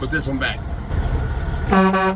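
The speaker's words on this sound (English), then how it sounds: "They're honking the horn at me, the other truck" A truck horn honks from another truck nearby, a loud harmonic blast near the end following a shorter earlier toot, with someone speaking briefly over the idling background.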